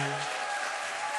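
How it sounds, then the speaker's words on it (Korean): A church congregation applauds to welcome new members during a worship service, a brief wash of steady clapping in the sanctuary, heard only for about a second. "큰 박수로 새가족들을 환영하겠습니다."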